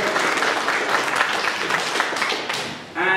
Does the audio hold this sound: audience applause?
yes